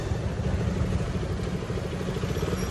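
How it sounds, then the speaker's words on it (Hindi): Motorcycles of a touring group idling together in Barot Valley as riders arrive, a steady low engine chug and clatter at moderate distance, with no talk. "ये देखें सभी की बाइक्स आ चुकी हैं।"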